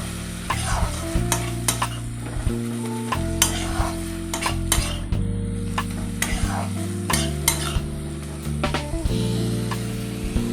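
Crab curry spice paste stir-fried in a pan, with a steady sizzle under repeated scraping strokes and clinks of a utensil against the metal, close and continuous throughout.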